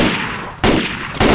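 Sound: gunfire in Left 4 Dead 2 video game

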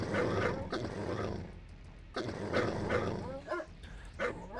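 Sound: attack dogs barking in video game Command & Conquer Red Alert

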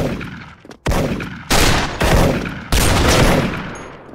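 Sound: M82 Barrett sniper rifle gunshots in video game Special Force

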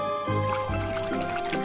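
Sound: water being poured to fill a drink, from a VR coffee shop video game

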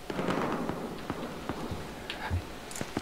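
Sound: gunshots from the Battlefield Hardline video game

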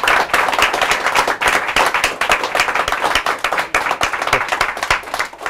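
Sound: audience applause for Mike Huckaby

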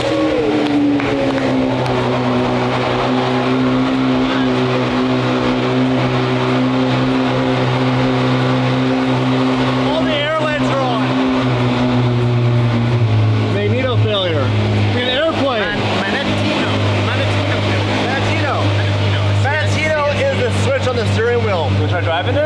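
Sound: car engine being started and run

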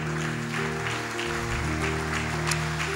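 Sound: audience clapping

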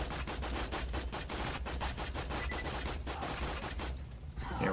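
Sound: gunfire in the video game Borderlands 2

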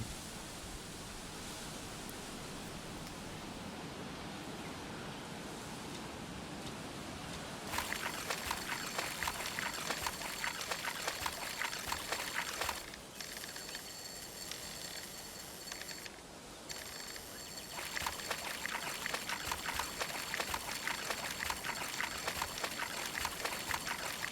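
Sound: flowing forest river water in video game Coral Island

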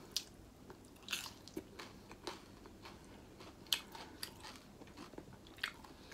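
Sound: biting and chewing grasshopper legs

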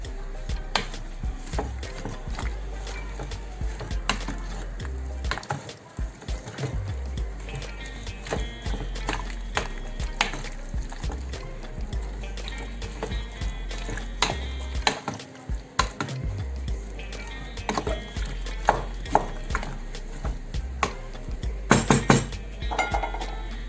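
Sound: stirring red pepper pickle in a pot

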